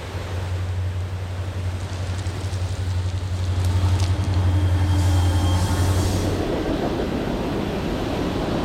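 A train rumbles past on the tracks, loud and close, with a steady low drone that fades into rattling wheels toward the end.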